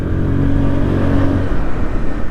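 A Hero Xoom 110 scooter engine revs close by, a loud steady droning that dips and roughens partway through, with no talking.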